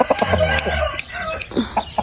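A rooster nearby clucks in short bursts and then breaks into a crow, loud and close, with people talking around it.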